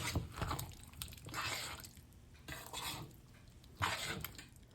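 Fried vegetables, green garlic and masala for undhiyu are stirred in a pot, giving soft scraping, clinking strokes in three or four separate bursts with quiet gaps between them, close and fairly faint.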